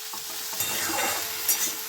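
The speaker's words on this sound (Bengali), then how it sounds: "বেগুনটা দিয়ে অল্প একটু নাড়াচাড়া করে নেবো" Eggplant is stirred into pumpkin and potato frying in oil. A close, brisk sizzle carries a couple of quick scraping strokes through the pan, with no talking.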